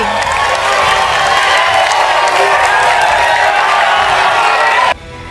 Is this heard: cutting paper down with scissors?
no